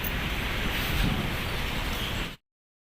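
Strong, cold wind at Manila Bay roars steadily against the microphone, a dense rushing noise that cuts off abruptly into silence.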